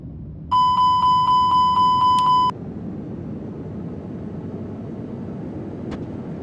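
An airliner on its daytime takeoff roll from runway 25 in Saudi Arabia: a steady, broad engine rumble fills the cabin, opened by a quick series of bright electronic chime beeps and later a single short click.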